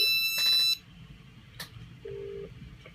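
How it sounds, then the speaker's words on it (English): A vintage 1994 Nokia 2010 mobile phone ringing: a short burst of electronic ring tone up front, then a quiet room with a sharp click and a brief steady beep, fairly near and isolated. "here we are, phone's ringing"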